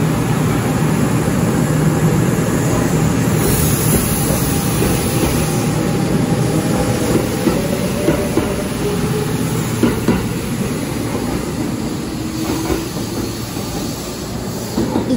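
Kintetsu Hinotori limited express train, running as an out-of-service run, moving through a station on track one; a loud, steady rolling rumble with faint wheel squeal holds throughout, no voices.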